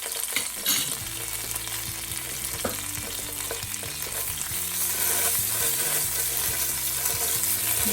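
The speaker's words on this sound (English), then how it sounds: "The chili really smells good when it's cooking in the oil." Chili frying in oil for crispy masala arvi, a steady close sizzle with stirring scrapes running throughout, no voices.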